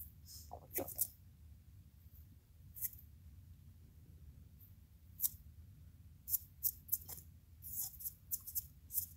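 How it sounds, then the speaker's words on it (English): Small scissors snip in a few quick, close, crisp cuts while tying a fishing fly at a vise, with quiet pauses between clusters of snips and a faint low hum underneath. "I like to do the first just couple chomps of the scissors"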